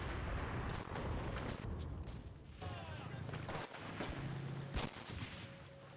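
Gunfire in the Enlisted video game on Xbox Series X: several sharp sniper shots over a steady, dense battlefield rumble, fairly close, with a player's voice talking faintly at times.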